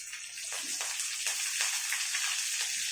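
Chopped green chilies sizzle in hot oil in a pan along with garlic for a chili mushroom dish, giving a steady bright frying hiss with a few soft pops, close by and with no talking.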